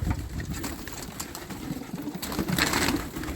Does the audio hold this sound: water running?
no